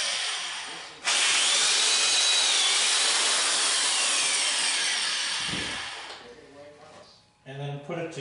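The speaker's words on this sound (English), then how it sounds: "we're going to use a 9/64 bit to drill pilot holes" A power drill with a 9/64 bit bores pilot holes into wood for about five seconds, a loud, harsh grinding whir that stops, followed by brief talking.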